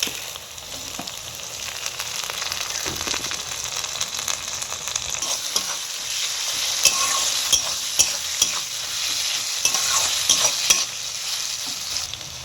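Tomato and garlic paste fries in a pan for chicken curry with a steady sizzle and repeated scraping strokes of a stirring spoon, close and clear with no voices.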